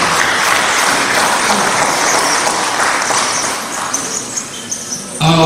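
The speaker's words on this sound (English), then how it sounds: "I think they deserve a round of applause for that." A conference audience gives a round of applause for a physical sciences society, loud dense clapping that thins slightly near the end before swelling again.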